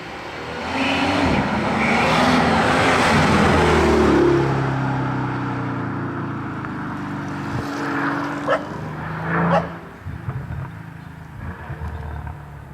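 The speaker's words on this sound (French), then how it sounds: "Elle fait même des retours d'échappement vraiment comme les Pagani ou R1" Mercedes S65 AMG exhaust burbling loudly up close, a sustained deep engine roar easing off, then a couple of sharp backfire pops and crackles on the overrun.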